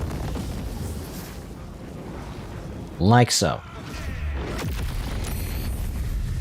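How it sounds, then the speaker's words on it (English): An explosion spell goes off in Baldur's Gate 3, a single loud burst with a sharp crackling double blast lasting under a second, standing out from steady game ambience and a voice speaking just before. "Maybe I'll just explode the ones over here."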